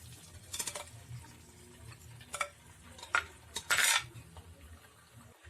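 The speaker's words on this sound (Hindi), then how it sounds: "नेक्स्ट हम इसमें बॉईल की हुई मैक्रोनी डाल देते हैं।" Boiled macaroni tipped into a pan and stirred with a utensil, giving scattered metallic clinks and scrapes against the pan, close and fairly quiet, with no talking.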